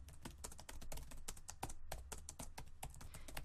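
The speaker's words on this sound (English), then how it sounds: "Make sure your fingers are typing correctly." Rapid, steady clicking of fingers typing a report title on a computer keyboard, close and faint, with one brief pause midway.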